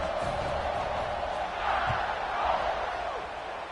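Stadium crowd at an NCAA football game, a steady broad roar of cheering that swells slightly midway and near the end, with a commentator's voice faintly under it.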